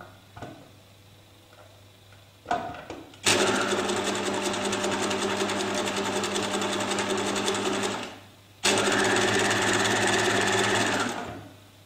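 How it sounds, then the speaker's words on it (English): A sewing machine stitching a lapped zip, running loud and steady in two long bursts separated by a brief pause, with a few soft clicks and handling noises before it starts. "You can see that I'm not sewing directly on the tacking, I'm just sewing to the side of it"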